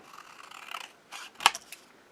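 Scissors snip through paper words for a mixed media tag, giving a few quiet rustles and one sharp, close cut, with no voice over it.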